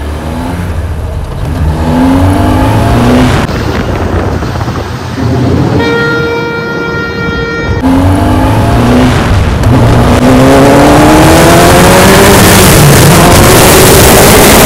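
A Kawasaki ZX10R motorcycle in a drag race, its engine roaring very loud and close as it accelerates hard through the gears, pitch climbing and dropping at each shift.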